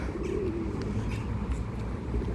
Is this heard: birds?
yes